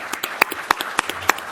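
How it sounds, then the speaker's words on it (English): Sparse, scattered clapping from a few people in a conference panel session, individual claps standing out distinctly and irregularly before quickly thinning out. "You don't need to clap."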